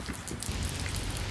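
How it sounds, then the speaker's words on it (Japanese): Rain falls outdoors in Hokkaido as a steady, dense hiss of drops with no pauses, fairly loud and close, with no talking. "雨が降ってきたので"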